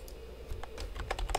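Quick, irregular clicking of a computer keyboard as text is typed into a button while building an online portfolio, close and clear with no talking.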